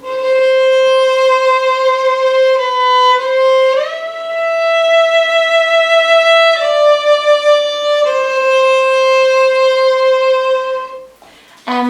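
A violin plays Schubert's Ave Maria, a slow, sustained melody of long bowed notes with smooth shifts between pitches, loud and close, with no talking.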